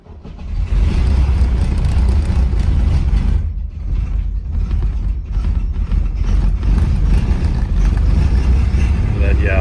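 An old Mercedes diesel engine cranks and fires after its glow plugs are preheated, then settles into a loud, rough, clattering idle close by, with a brief dip in the noise partway through.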